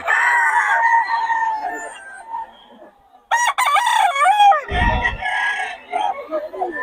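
A Boston sweater gamefowl rooster crows at a poultry farm, a drawn-out call followed by clucking, with a voice talking nearby and a short low bump partway through.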